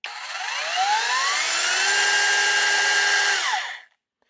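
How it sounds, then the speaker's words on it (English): A VEVOR rotating hammer drill spins in plain drill mode, whining up to a high, steady motor pitch that holds for about three seconds before winding down and cutting to silence, with no talk over it. "You've got a drill. It's just going to rotate smoothly."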